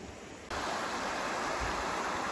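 River flooded after Cyclone Gabrielle, rushing with a loud, steady broadband roar of water, close and continuous, growing stronger after a brief quieter start.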